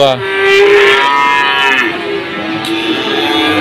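A fat Pegon cow at a cattle market lets out a long, loud moo close by, drawn out and slightly wavering, with no other sounds around it.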